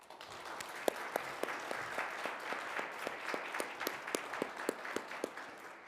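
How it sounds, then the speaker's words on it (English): Round of applause at a board of directors meeting honoring students' families, moderately quiet clapping from a small room crowd with individual sharp claps standing out in an even rhythm. "If you could join me in a round of applause."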